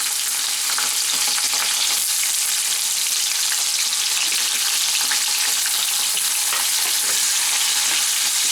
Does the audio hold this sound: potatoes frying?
yes